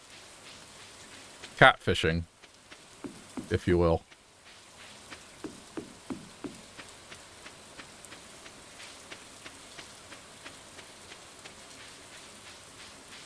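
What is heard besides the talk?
rain falling in the video game Stardew Valley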